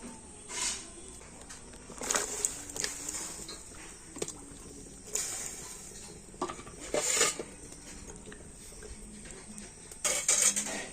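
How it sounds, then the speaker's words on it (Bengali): Jackfruit seeds are tipped into water in a metal wok, producing scattered clinks, rattles and splashy knocks at irregular intervals, fairly quiet and close, with no talk. "এবার আমি কাঁঠাল দানাগুলো জলের মধ্যে দিয়ে দেব"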